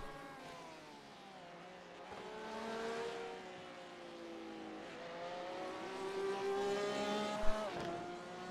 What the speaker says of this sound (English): It's for Molly Faith. In that 955 Porsche.